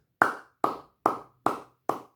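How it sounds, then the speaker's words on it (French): Five slow, evenly spaced hand claps ring out close by, each crisp with a short decay, with no talking. "Je les applaudis."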